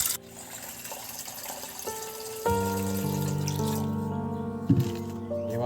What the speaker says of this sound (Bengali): জল নিয়ে নিচ্ছি।